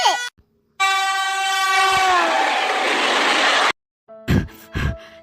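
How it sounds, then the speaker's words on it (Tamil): An animated cartoon train pulls away from a railway platform: a loud sustained horn blast that bends downward in pitch as it departs, then cuts off, followed by a few short clattering thumps. "ஐயோ அண்ணே, ட்ரெயின் போயிட்டு."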